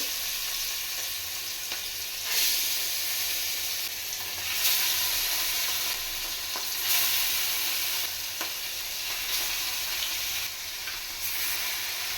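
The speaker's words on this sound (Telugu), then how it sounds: "చూడండి మంచిగా ఫ్రై అవుతున్నాయి." Appams fry in hot oil with a continuous close sizzle that swells in several gentle surges as they are moved around, with no voices.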